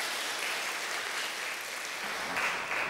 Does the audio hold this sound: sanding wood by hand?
no